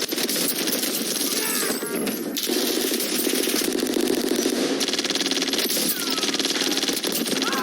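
Automatic gunfire rattles in Call of Duty Warzone Plunder mode, dense bursts of shots with metallic clinks layered over a steady game soundscape, loud and close throughout.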